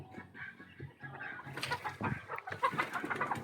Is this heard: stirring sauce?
no